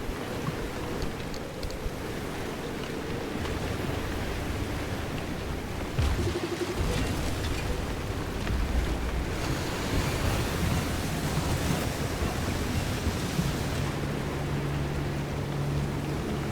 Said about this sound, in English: No, it still sounds like rain.